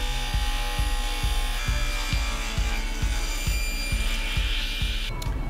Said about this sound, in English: I just used my tenoning jig and my table saw.